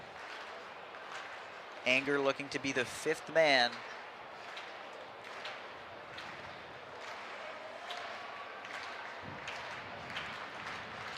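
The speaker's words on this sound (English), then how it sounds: "He's getting a clap going here." Spectators and athletes at a track meet keep a rhythmic clap going, a faint, regular beat that carries on under a sports commentator's voice.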